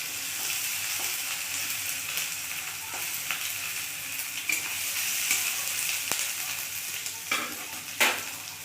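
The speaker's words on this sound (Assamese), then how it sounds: "এতিয়া মই আদা নহৰু পেষ্টখিনি দি দিছো" Ginger garlic paste and chopped green chillies fry in a pan with a soft, steady sizzle, broken by scattered clinks and scrapes of stirring; quiet, with no talking.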